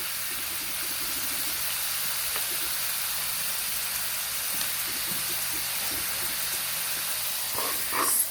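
Seafood sizzles in a hot pan for Thai stir-fried krapao with holy basil, a steady bright hiss throughout that swells briefly near the end, close and without talk.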